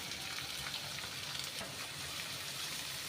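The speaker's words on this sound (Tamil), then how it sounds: "இப்போ எண்ணெயில் ஃப்ரை பண்ணி எடுத்துக்கலாம்" Continuous crackling sizzle of bitter gourd frying in hot oil, dense and steady throughout.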